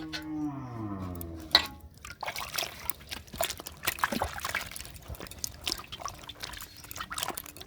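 Muddy palm fruits being washed in water: close splashing, sloshing and dripping in irregular bursts, with one sharper splash early on and no talk.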